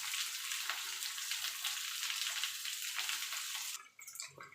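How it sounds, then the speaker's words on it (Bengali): Pieces of pointed gourd sizzle steadily in a hot pan as they are sautéed and stirred, a close continuous frying hiss that cuts off near the end, with no talk. "পটলটা দিয়ে পটলটাও একটুখানি নাড়াচাড়া করে নেব।"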